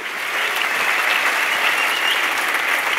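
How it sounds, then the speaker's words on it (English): A church congregation breaks into loud, sustained applause. Dense clapping carries evenly from start to finish with no voices over it. "Let us give him a round of applause."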